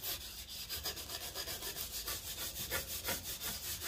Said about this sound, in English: just enough downward force on the sanding block to keep it under control.